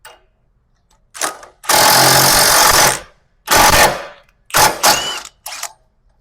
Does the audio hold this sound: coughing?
no